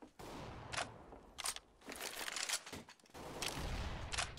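Gunfire from a video game during a five-versus-one clutch round, sharp bursts of shots scattered across the moment, loud and close, with no talk over them.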